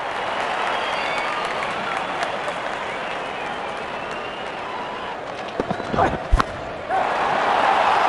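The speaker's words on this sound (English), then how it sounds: "The crowd loves it." Crowd applause and cheering in the Real24 cricket video game after a boundary four in an England vs India Test match, a steady broad roar that swells briefly with a few thumps near the end.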